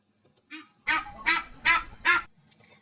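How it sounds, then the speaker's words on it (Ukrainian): A goose honks four times in a loud, even series, framed by softer shorter honks before and after, close and with no talking. "Правильно, це гусь."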